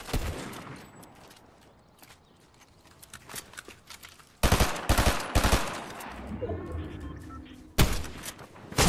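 Rapid automatic gunfire in Fortnite Battle Royale comes in loud bursts, the strongest a dense volley midway and another near the end, over quieter game ambience with faint talking.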